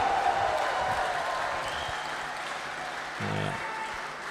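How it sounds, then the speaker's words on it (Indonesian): Audience applause at a church choir competition in a hall, a steady wash of clapping from a crowd that continues throughout, fairly distant and even, with a brief low thump near the end. "Boleh tepuk tangan lagi untuk Parung Panjang."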